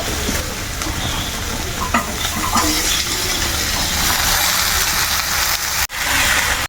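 Onions sizzle in hot oil in a pan while being stirred for a chicken curry, with a steady crackling fry broken by scraping stir strokes and one short drop near the end, and no speech.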